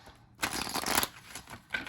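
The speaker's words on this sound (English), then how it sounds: "looks like it shuffles just fine. Side shuffles as well" A Santa Muerte oracle card deck is shuffled by hand, producing close, crisp riffling bursts with short pauses between them.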